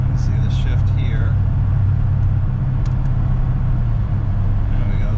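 A 1970 Rover P6 3500S with an automatic gearbox shifts up while cruising at low revs around town, a steady low engine drone and road rumble with a slight change in pitch, heard from inside the car.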